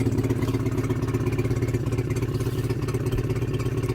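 A Suzuki outboard boat engine runs steadily at close range, its loud, even pulsing throb and clatter continuing without a break and with no voices over it.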